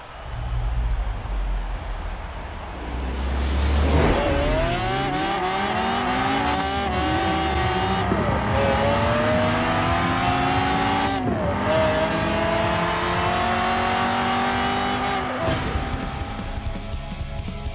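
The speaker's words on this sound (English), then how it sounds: "Can this Audi station wagon beat a Mclaren F1 off the line?" In a Forza racing game, an Audi RS2 and a McLaren F1 launch off the line: a loud engine roar climbing in pitch through several sharp gear shifts, with no talk.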